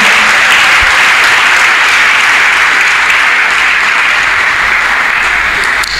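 A church congregation applauds and cheers loudly for Jesus, sustained dense clapping filling the room at a steady high level for the full stretch with no pauses.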